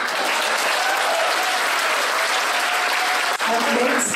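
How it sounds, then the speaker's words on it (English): Steady, dense applause from a large dinner audience at an awards banquet, sustained at even loudness for a few seconds with a brief dip near the end, sounding close and full. "So if all of you agree to that, give my team leaders a big clap."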